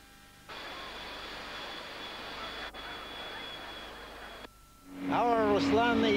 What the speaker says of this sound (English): The giant Russian Antonov 124 transporter.